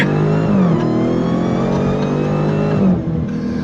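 A 2023 Dodge Challenger Demon 170 engine revving hard on throttle, a loud, close, sustained roar with rising pitch sweeps and a brief drop near the end, no talk.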